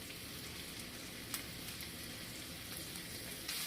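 Bay leaves, marjoram and chili powder stirred in hot olive oil give a steady, close sizzle with faint crackle throughout and no voices.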